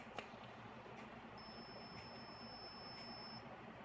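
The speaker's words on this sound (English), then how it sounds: "once the gas is more than 50 threshold, then LED and the buzzer will be active" An Arduino MQ2 gas sensor alarm buzzer sounds a thin, steady high-pitched electronic tone for about two seconds, quiet and alone after a brief click.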